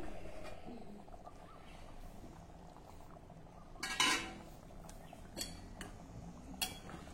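A metal lid clatters partly onto a pot of dried pea usal with one brief clink and scrape, followed by a few faint knocks over a soft kitchen background hiss.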